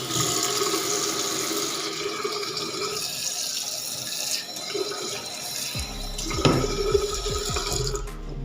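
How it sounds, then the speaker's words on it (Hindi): Tap water runs steadily into an electric kettle for tea in a student hostel kitchen in Riga, Latvia, a continuous close splashing flow that changes pitch toward the end as the kettle fills. "तो इसमें थोड़ा सा पानी डालूँ"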